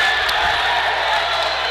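The crowd at a varsity high school basketball semifinal roars and cheers in a dense, steady wash of noise that stays loud throughout.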